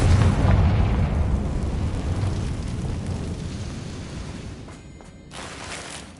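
A Confringo blasting spell from Hogwarts Legacy erupts in a loud, deep explosion, then rumbles and decays over several seconds, with a smaller crackling burst near the end.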